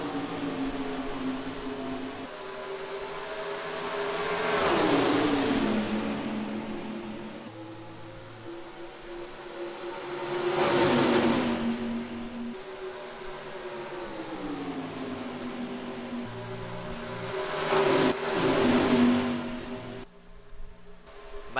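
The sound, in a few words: race cars at Indianapolis in NR2003 racing video game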